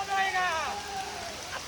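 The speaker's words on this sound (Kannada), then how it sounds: "ನಮ್ಮ ದೂಧಸಾಗರಲ್ಲಿ ಯಾವ ಥರ ಮಳೆ ಬರ್ತಿದೆ" Rain falls steadily through forest on the Dudhsagar trek, a soft continuous hiss close around, with a voice talking over it throughout.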